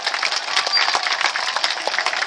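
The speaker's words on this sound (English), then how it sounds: "And a round of applause is for yourselves, adventurers, for being a beautiful audience." Audience applause at a sea lion show at Chessington park, a steady dense wash of clapping from a crowd that holds for the whole stretch without letup.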